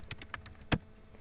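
Several quick keystrokes on a computer keyboard as a note is typed, light close taps followed by one sharper, louder press in a quiet room.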